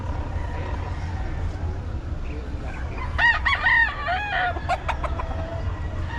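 A rooster crows nearby at a chicken market in Bocaue, a harsh cock-a-doodle-doo over steady background rumble, with a few clucks following.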